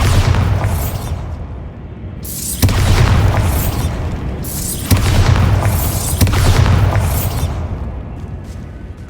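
Bombarda explosion spells going off in the video game Hogwarts Legacy, three or four loud booming blasts in quick succession, each with a crackling burst and rumbling tail, close and without talk.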